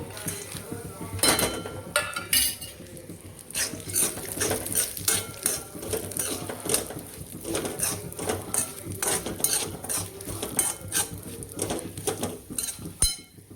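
Cashew and almond pieces stirred in a pan while roasting, with steady close scraping and clinking of a spoon against metal and a faint sizzle, continuous and busy throughout.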